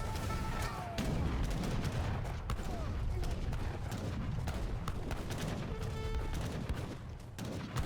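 Heavy cannons firing repeatedly in an Age of Empires III battle, booming shots scattered among clashing combat sounds, with a voice talking throughout.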